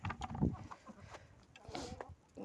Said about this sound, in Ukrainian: Такі в мене курочки, чубатурочки.